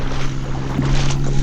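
A boat motor hums steadily on shallow, muddy seawater near a sandy Thai shore on the way to Phraya Nakhon Cave, close and continuous, with wind buffeting the microphone.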